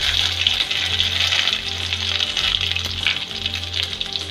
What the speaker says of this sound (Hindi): अब हम इसमें तेल डाल रहे हैं। इसमें अदरक लहसुन का पेस्ट डाल रहे हैं